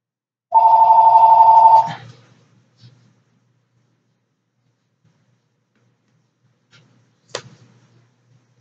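A telephone rings once, a loud electronic trill lasting over a second, then cuts off into near silence broken by a few faint clicks and knocks.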